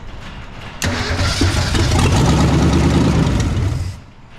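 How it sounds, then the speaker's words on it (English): A 1983 Mercury Capri RS, abandoned for 20 years and primed with a splash of fuel, cranks and catches, roaring loud and close for about three seconds before dying back down; no voices. "Just enough gas to fire it."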